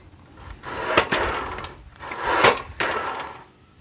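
A Parkside PUG 1600 B2 universal mitre saw support slips loose from its machine stand and drops, giving a few close, loud clattering knocks of metal and wood over about four seconds.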